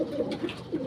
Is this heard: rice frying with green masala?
no